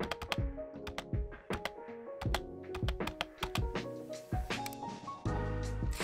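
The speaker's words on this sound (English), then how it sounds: "So we're going to enter our personal email here and click Continue." An email address is typed on a computer keyboard in quick clusters of close, crisp key taps and thunks with short pauses between bursts, and one heavier press near the end.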